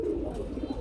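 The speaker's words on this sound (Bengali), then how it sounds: "একটা কবুতর বন্ধুরা সাইজ দেখেন আর ডাকগুলো দেখেন, ডাক দেখে শান্তি ভাই" A grizzle pigeon at a pigeon farm gives a single low, throaty coo, close and clear with no talk over it.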